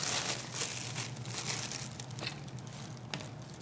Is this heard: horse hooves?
no